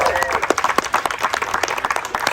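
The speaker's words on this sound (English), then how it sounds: "If we can have another round of applause." Audience applause at a Pride march rally in Woonsocket: a dense crowd clapping loudly and steadily, with scattered cheers mixed in and voices audible under the clapping.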